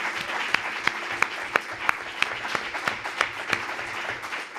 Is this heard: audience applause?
yes